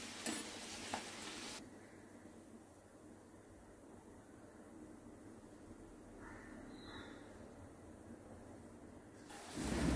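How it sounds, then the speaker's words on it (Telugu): Spinach puris frying in a pan of hot oil, a steady soft sizzle running through the clip with faint stirring, a brief brighter burst near the start and end. "నూనె కాగింది. పూరీలో ఒక్కొక్కటిగా వేసుకొని ఇలా ఒత్తుతూ వేసుకోవాలి."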